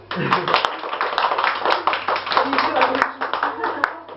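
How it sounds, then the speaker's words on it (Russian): Audience clapping in a room, dense continuous applause of many hands mixed with voices, close and fairly loud, steady throughout with a low hum beneath. "Аплодисменты для Ани."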